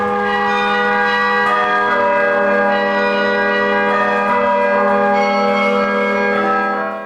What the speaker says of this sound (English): The instrument is the Rockefeller Chapel Carillon at the University of Chicago